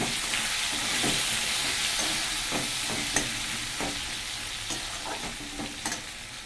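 Onions frying in a pan with cumin seeds, a loud steady hiss and crackle close by, punctuated by rhythmic scraping strokes of stirring.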